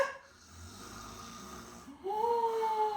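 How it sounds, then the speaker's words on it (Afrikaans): Loud, drawn-out snoring breaths rumble close by in a children's story, the second breath rising into a strong whistling wheeze. "Hier naby snork iemand verskriklik hard."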